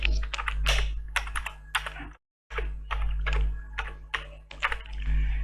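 Rapid clattering keystrokes on a computer keyboard as an ID card number is entered, close and steady in bursts with a brief silent gap midway, no voices.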